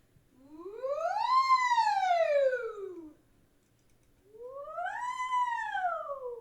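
A singer's voice imitates a fire engine siren during a vocal master class, gliding up and falling back down in two long, smooth swoops separated by a brief pause, clear and fairly loud with no other sound.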